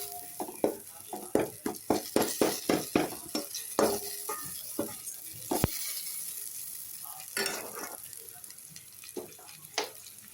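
A spoon stirs chicken samosa filling with turmeric in a frying pan, making a quick burst of rhythmic metallic scrapes and clacks over a soft sizzle, then slower, sparser stirs.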